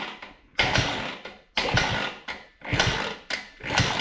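A motorcycle engine cranked over by hand, giving four close, rhythmic bursts of mechanical churning and clatter separated by short pauses, with no talking.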